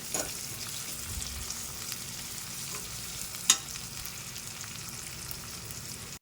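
Ingredients for a quick potato rice dish frying in a pan, a steady close hiss of sizzling oil with one sharp clink of a utensil partway through.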